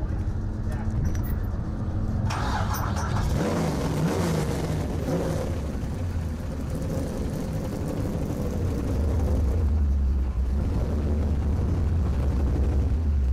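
A race car engine fires up and holds a loud, steady roar with rumbling revs, close by and continuous throughout.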